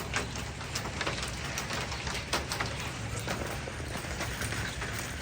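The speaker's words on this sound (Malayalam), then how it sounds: "അതെ, ആലിപ്പഴം വീഴുന്നുണ്ട്." Hailstones fall after a sunny break, a dense, steady patter of many small impacts striking surfaces nearby, continuous and moderately loud throughout with no voices.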